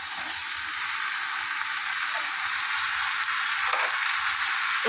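Bottle gourd, potato and prawns being stirred with spices in a frying pan, a dense continuous sizzle with soft spatula scrapes throughout, close and even in level, no voices.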